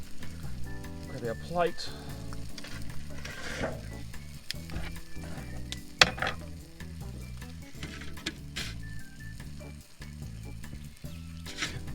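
A bacon, egg and cheese omelette sizzles steadily in a hot pan with the gas turned off, frying softly throughout with a few clinks, under occasional talk.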